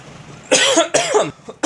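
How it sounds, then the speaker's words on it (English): Two harsh coughs in quick succession, close and loud, followed by a short breathy catch. "I'm coughing over here like a maniac"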